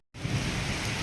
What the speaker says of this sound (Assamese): বৰষুণ বিৰাট ডাঙৰ বৰষুণ হৈছে